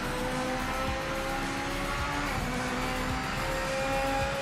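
Race car engine from the Project Motor Racing video game, a 4-liter flat-plane V8, droning steadily and loudly throughout with a sustained tonal hum.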